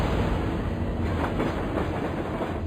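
A train runs along railway tracks, steady loud rumbling with rhythmic clickety-clack wheel beats throughout.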